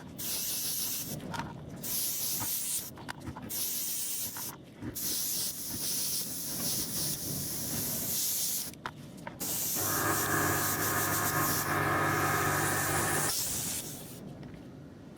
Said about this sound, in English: just for that little bit of protection I shall give it a coat of matte varnish.